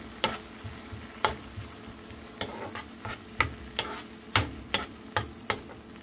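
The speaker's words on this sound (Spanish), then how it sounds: "Freímos muy bien." Stuffed crab punches frying in a pan, giving a low steady sizzle broken by a series of sharp clacks and scrapes from stirring, spaced irregularly and close by, with no talk.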